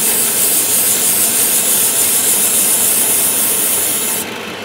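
An airbrush sprays a single colour of paint onto a model aircraft's wings and rudder, a steady close hiss held for about four seconds before it cuts out and drops to a quieter tail.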